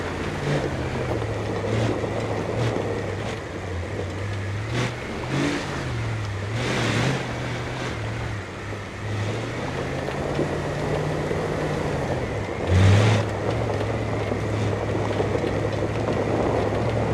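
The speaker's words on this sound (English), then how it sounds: "Nice gravel sound, love it." Car driving almost flat out over gravel in the BeamNG video game, a steady engine drone with shifting pitch under a constant rough crunching wash, plus a few louder bursts.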